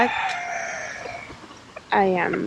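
Chickens cluck nearby at a roadside coop while a rooster lets out a short crow toward the end. The calls are fairly close and loud over faint outdoor background noise.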